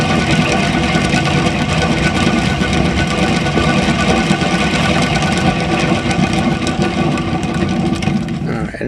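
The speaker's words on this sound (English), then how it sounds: "But I will spin it a little bit more, see if we can't get some of that paint to kind of thin out some more." A spinner whirls a tile coated in acrylic paint, giving off a steady, loud motor whir that runs unbroken and eases slightly at the very end, with no talking.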